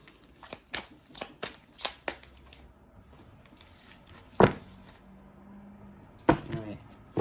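A deck of tarot cards is shuffled by hand at close range, giving a quick run of crisp riffling flicks followed by a few louder slaps and taps as the cards are squared and handled.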